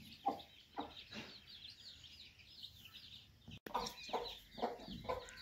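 Soft, scattered clucking of hens with faint peeping chicks, moderately close, in short bursts against quiet outdoor background.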